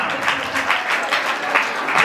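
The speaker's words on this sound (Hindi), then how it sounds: "तालियां।" An audience claps steadily at a Dasalakshan festival cultural program in a Digambar Jain temple in Rohini, Delhi, giving a dense, even patter of many hands that carries through the whole stretch without a break.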